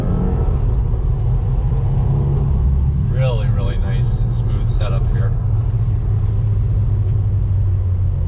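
Low, steady engine rumble from a 2020 Subaru WRX on throttle, heard from inside a quiet cabin, running continuously beneath someone talking about the car.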